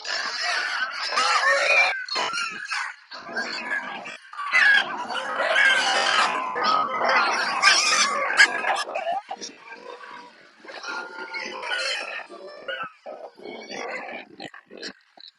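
A group of pastured pigs oink, grunt and squeal loudly and repeatedly at close range, a busy, overlapping chorus with short pauses, and a person speaks briefly among them.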